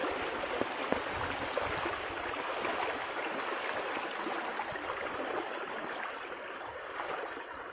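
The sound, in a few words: small river stream flowing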